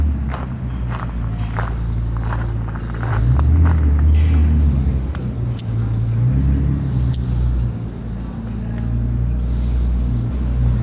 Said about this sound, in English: there's a McLaren just coming in